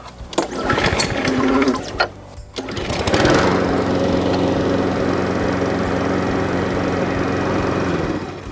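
A Cobra MX534SPH lawn mower is started by pulling the recoil cord, with a few rough pulls and sputters. It then catches and settles into a steady, loud, close engine drone that runs without a break.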